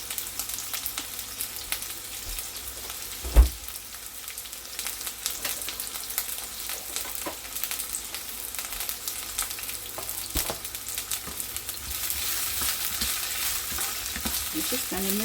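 Stir-fried vegetables sizzle steadily in a hot pan, a continuous close frying hiss with occasional sharper pops and spatters, building slightly louder toward the end; no voices.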